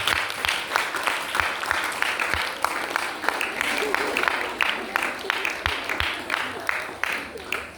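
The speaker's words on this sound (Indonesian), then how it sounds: "Tepuk tangan untuk bagian kebersihan." A crowd claps enthusiastically in sustained applause at a student orientation installation ceremony, with a voice speaking underneath at times.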